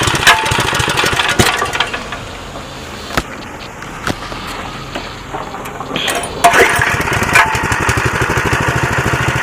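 A Baja Warrior minibike's small gas engine runs on choke, a loud, close, steady rapid chugging with slight surges and sputters that continues throughout.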